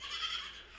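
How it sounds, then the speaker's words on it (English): A farm goat gives one brief, close bleat, a nasal wavering cry under a second long. "These damn goats drive me."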